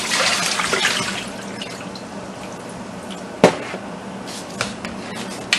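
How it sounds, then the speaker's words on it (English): Water from boiled saltfish drains from a pot in a steady, splashy pour that tapers to a quieter trickle, with a few sharp clanks and drips near the end. "So we're gonna drain out the water."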